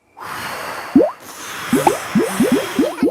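Cartoon bubble-blowing effects from Peppa Pig: a string of quick, wet, rising bloops and squishy pops, loud and close with a soft airy hiss behind them.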